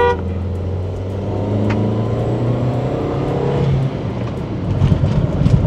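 A 2001–2005 Skoda Octavia vRS turbo engine revs up from a deep idle drone into a steady rising hum, then drops back with rough, bursty rumbling toward the end, heard close and fairly loud.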